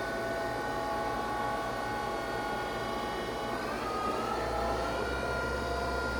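A Doosan 4-axis vertical machining center spindle whines at high speed in the high gear range, a steady layered tone that climbs slightly toward 4,000 RPM, continuous and fairly close with no talking.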